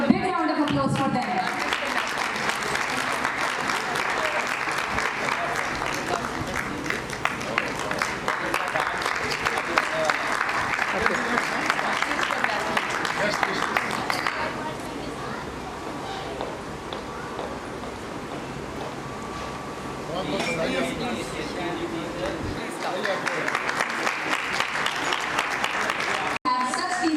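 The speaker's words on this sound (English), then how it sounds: "give a big round of applause for them" An audience at a school annual function applauds loudly and continuously for a long stretch, with a brief quieter dip midway where a voice speaks before the clapping swells again.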